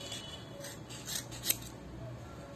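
A few quiet snips of scissors cut through yarn wraps while making a pompom, with a sharp click near the middle against a hushed indoor background.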